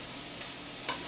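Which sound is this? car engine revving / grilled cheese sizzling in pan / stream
grilled cheese sizzling in pan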